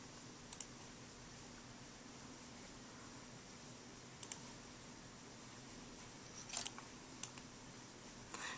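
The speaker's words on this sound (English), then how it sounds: "I'm just going to click." Several quiet, crisp clicks of a computer mouse, spaced irregularly over a steady faint hiss with no speech.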